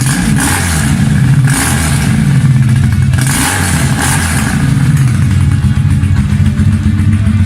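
A Honda muscle bike's engine revs hard and loud close by, its throaty note rising and falling in repeated surges over a steady rumble, with no talking.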